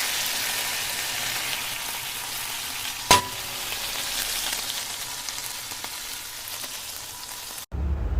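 Boneless chicken fries in a pan with a continuous, fairly loud hiss like light rain. A single sharp clack from a utensil breaks in partway through, and the sound cuts out briefly near the end.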